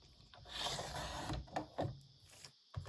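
A sheet from a 6x8 paper pad is cut with a paper trimmer or blade, a close scraping slide followed by a few short clicks and taps, fairly quiet throughout.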